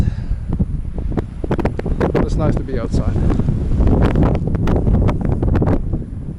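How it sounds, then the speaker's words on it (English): Strong wind buffets the microphone outdoors on the coast at Askøy near Bergen, Norway, with gusty low rumbling throughout while someone talks close to the mic. "the weather is nice, but it's really windy. You can hear that."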